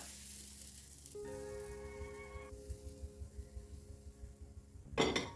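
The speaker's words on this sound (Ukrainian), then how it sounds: "ми наливаємо на сковорідку і одразу це тісто розподіляємо по всьому дну" Crepe batter for cheese-filled crepes hisses and sizzles steadily as it is spread across a hot frying pan, a quiet continuous crackle, with a brief clink of utensils near the end.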